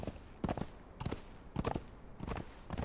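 A slow, low-stamina horse in the video game Conan Exiles walks with steady hoof clip-clops, paired impacts about every half second, moderately quiet against a faint background.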